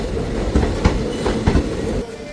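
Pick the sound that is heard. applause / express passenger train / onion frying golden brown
express passenger train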